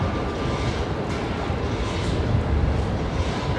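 An airplane thunders down runway 19 right at Brisbane Airport on its takeoff roll, a loud, broad, rumbling engine roar that is steady and close throughout.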